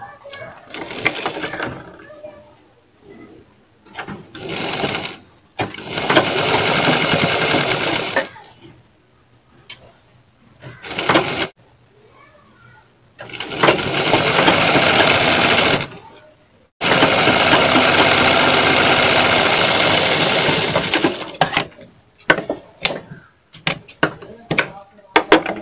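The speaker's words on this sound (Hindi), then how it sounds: "अब दोस्तों इसी तरह हमें इसकी पाइपिंग भी रोक लेना है ऊपर से सिलाई लगा के।" Domestic sewing machine stitching piping onto a kurti, several bursts of steady whirring motor of varying length separated by pauses, with a person talking in the gaps.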